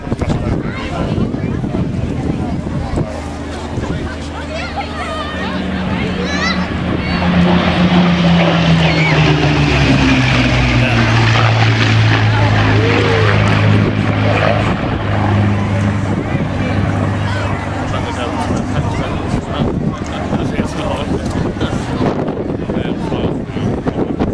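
A Hawker Hurricane Mark 12 propeller engine drones past at an air festival, swelling from a distant hum to a loud, rough roar and fading away, with wind buffeting the microphone throughout.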